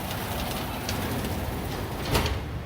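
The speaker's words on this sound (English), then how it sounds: "it's rainy here pretty hard" Heavy rain drums hard on a poorly insulated metal shop roof in a dense, continuous roar, loud and close throughout with no talk.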